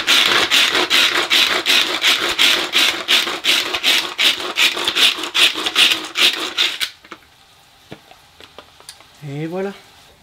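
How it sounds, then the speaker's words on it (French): Tupperware manual hand chopper chopping onions: rapid, regular rasping strokes of the pull-cord blades repeat for about seven seconds, then stop, leaving near quiet with a brief voice at the end. "je vais utiliser le petit hachoir à main Tupperware"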